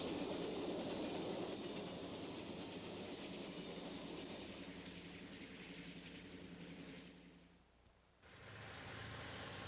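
The Union Pacific M10004, a 1936 streamlined diesel train with articulated passenger cars, rumbles past with steady rolling wheel and rail noise that fades away, a brief quiet gap, then resumes.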